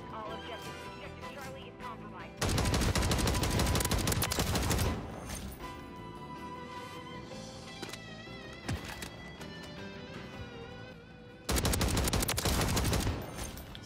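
Sidewinder gunfire in Modern Warfare 3, with loud bursts of rapid automatic fire in two main strings and lighter game sounds between them. Players chat underneath.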